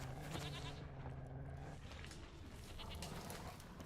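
Goat bleating in The Witcher 3 video game, a few moderately loud bleats over continuous game ambience with no speech.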